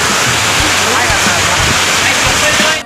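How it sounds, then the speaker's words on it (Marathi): A waterfall at the Shri Marleshwar temple in Maral pours during heavy monsoon rain, a loud, steady, close broadband roar with faint voices underneath. "वरून मस्त सुंदर धबधबा, वॉटरफॉल"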